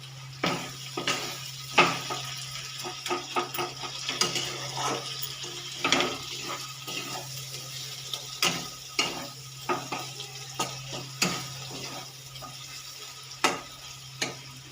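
Chicken being stirred and sautéed in a pan while bhorta is cooked, with repeated scraping strokes of a spoon against the pan over a low steady sizzle and hum, and no talking.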